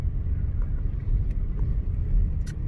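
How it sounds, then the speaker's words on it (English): Steady low engine rumble and road noise from inside a moving car, continuous and close, with faint cabin clicks and no talking. "So here I am, SB Alger, driving in the car live from the Pleroma"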